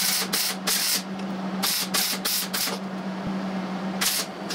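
Welding a patch panel onto the firewall of a Triumph TR4: bursts of crackling, hissing arc noise start and stop in short runs over a steady low electrical hum, close by, with no talk.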